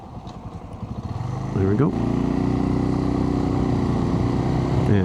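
A Suzuki TU250X motorcycle idles with quick putters, then revs up and settles into a steady, loud engine drone while riding. Someone briefly speaks over it near the start.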